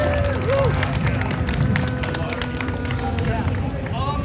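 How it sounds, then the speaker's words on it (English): A crowd at a Sonic fan panel at the Too Many Games 2025 convention claps and cheers steadily in an indoor hall, with chatter and a voice over a loudspeaker mixed in. "Give your guys a round of applause."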